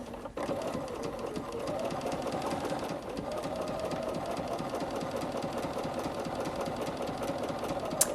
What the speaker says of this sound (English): It does what's known as a 6-step buttonhole